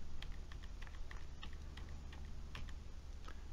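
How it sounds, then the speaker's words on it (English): Arrow keys on a computer keyboard pressed repeatedly, a quick series of light, close clicks at an uneven pace, quiet over a faint steady background hum with no voice. "if I use the right arrow on the keyboard now"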